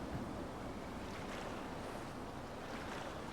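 Steady rushing, sloshing river water surrounds a tractor driven into a river in Farming Simulator 25, a constant wash of watery noise with no voices.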